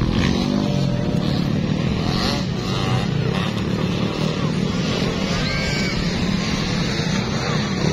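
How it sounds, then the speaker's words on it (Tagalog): Motocross motorcycles race in Barangay Kauswagan, Misamis Oriental, engines droning and revving continuously in a loud, dense roar with distant whines passing, a commentator's voice buried underneath. "Number 27 ang dala nga motor ni Laila Guro"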